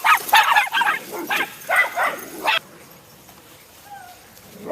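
A dog in training gives a rapid run of sharp, close barks and yips, then falls quiet with a few faint whimpers near the end.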